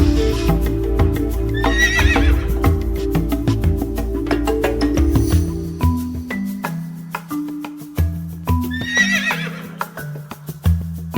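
A horse neighs and whinnies twice, loud and close, on a mountain path to Sunset Point at Mount Abu, with hooves clip-clopping and a steady rumble beneath.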